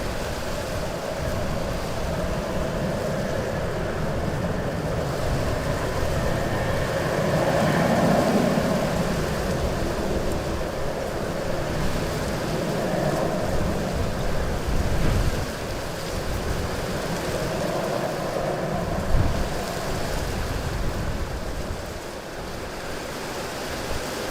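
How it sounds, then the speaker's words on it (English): Wind picking up at Stansted Airport, a continuous rushing roar that swells and eases with gusts, loud and broadband with no voices. "Probably hear the wind really starting to pick up now."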